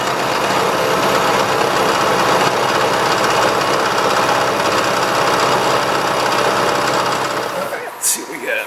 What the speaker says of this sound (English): and then we got to grind it